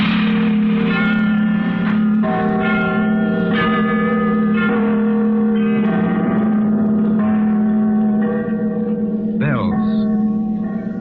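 Church bells ring in a 1938 radio drama sound effect, with reverberant strikes roughly every second that ring on and overlap above a steady low hum, with no voices.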